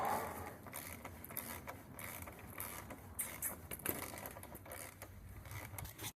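Wrench work on a Yamaha R6's front axle bolts: quiet metallic clicks and ratcheting taps in an uneven, close-up rhythm, with no talking.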